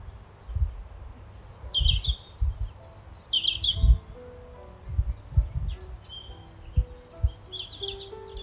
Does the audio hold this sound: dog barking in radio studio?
no